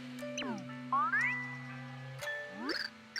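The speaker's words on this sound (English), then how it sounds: "The bells are giving their blessing to Tippi and Bleck." Chiming and jingling tones ring out in the Super Paper Mario finale, with sliding bell-like notes rising and falling over a sustained low tone, bright pings near the end.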